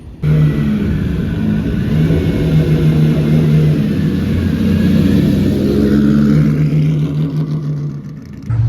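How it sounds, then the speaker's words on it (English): A Ferrari 250 GTO pulls into Polo Fields during Car Week at the Pebble Beach Concours, its engine a loud, close, sustained drone that holds steady for several seconds before easing off. "the 250 GTO pulling into Polo Fields"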